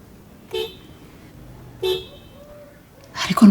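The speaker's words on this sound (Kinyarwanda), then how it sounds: "Abantu bavuze amahoni muri iri joro ubwo baba bavuze amahoni koko ki?" Car horns toot in short, separate blasts at night, two distinct honks about a second apart followed by a louder burst, heard at moderate distance against a quiet background.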